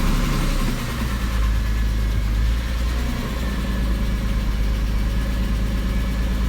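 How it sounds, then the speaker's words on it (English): Porsche 911 engine fired up for the first time through a new Pfister exhaust, a loud, steady low rumble with a brief swell of revs near the start before settling into a throaty idle. "This is going to be the first start with the Pfister exhaust."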